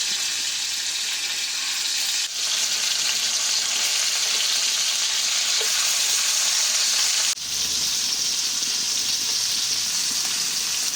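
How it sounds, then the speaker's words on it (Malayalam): Kerala-style pepper fish frying in a pan, a loud steady sizzle with two abrupt shifts as the fish is turned over, no talking. "ഒരു വശം ഫ്രൈ ആയിട്ടുണ്ട് എന്തായാലും മറിച്ചിടുവാണ്"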